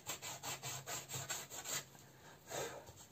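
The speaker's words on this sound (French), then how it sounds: "J'essaie de faire ça, de limer les bords" A nail file rasps along the edges of a scrapbook page in quick, rhythmic strokes, about ten close, soft scrapes with a short pause before a final one.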